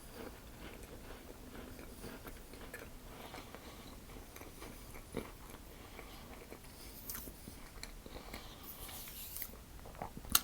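Soft, quiet bites and crunchy chewing on a caramel-filled shortbread sandwich biscuit, a series of small irregular crackles close to the mouth with no talking.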